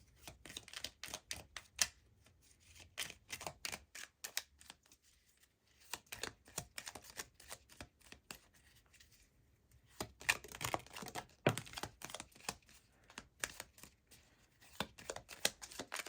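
Moon magic oracle cards are shuffled by hand in repeated quick bursts of riffling and flicking, close and fairly quiet, with brief pauses between rounds and no voices.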